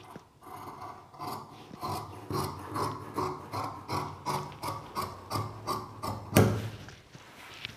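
Scissors cutting fabric for a child's palazzo pants, a steady series of rhythmic rasping snips close by, about a dozen cuts at an even pace with one louder thump near the end.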